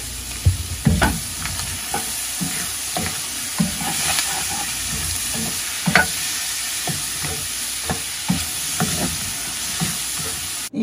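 Squash and egg stir-fry in a pan with oyster sauce, soy sauce, sugar and chili, producing a continuous close sizzle broken by repeated spatula scrapes and clatters, with no talking.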